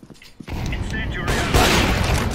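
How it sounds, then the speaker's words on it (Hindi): Unsuppressed gunfire in the mobile battle-royale game PUBG Mobile, loud continuous booming bursts that swell midway, with someone talking over the shots. "गन अलग ही लगती है साइलेंसर खोल के मारने के बाद अबे डूम डूम करके जाता है"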